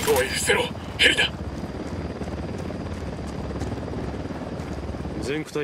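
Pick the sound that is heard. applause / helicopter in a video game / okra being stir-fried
helicopter in a video game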